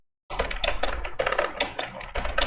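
Rapid, irregular clicks of typing on a computer keyboard, continuous for about two seconds at close range with no talking over it.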